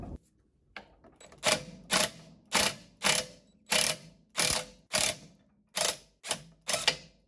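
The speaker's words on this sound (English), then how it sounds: "now I'm going to use my Craftsman impact" A Craftsman impact wrench works on a Mercruiser Alpha outdrive lower unit after the part has been heated. About ten short, close, rattling hammer bursts come in a fairly regular rhythm, each separated by a brief pause.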